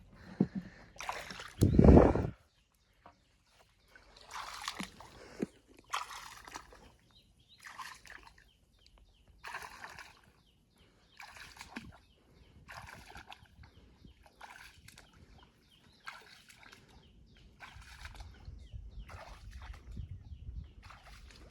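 A small wooden boat rowed through shallow water on a crab-trapping trip in the Konkan, with repeated oar strokes making a steady rhythm of brief sloshes and splashes, one louder splash near the start, then faint dribbling between strokes.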